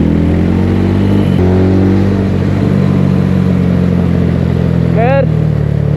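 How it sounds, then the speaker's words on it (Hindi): A TNT25 motorcycle fitted with an NGK iridium spark plug runs loudly, its steady engine drone broken by a sharp exhaust backfire pop early on, while someone talks over it. "बैकफायर सुन रहे हो ब्रो?"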